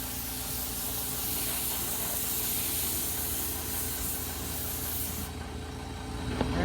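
Steady aerosol hiss of BIN shellac primer sprayed inside a wooden end table, a continuous close spray running almost the whole time before cutting off near the end with a small knock.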